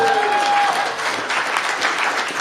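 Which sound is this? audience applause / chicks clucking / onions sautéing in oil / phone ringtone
audience applause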